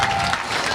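Audience applause at a Ganesh puja stage show in Narhan Bazar, Samastipur, a brief loud wash of many hands clapping with crowd noise, close and dense.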